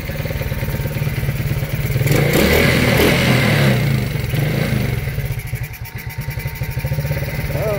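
A rebuilt Hammerhead Twister go-kart engine runs with a steady rapid putter, swelling into a louder rev midway before settling back to an uneven, lumpy idle, close and fairly loud throughout.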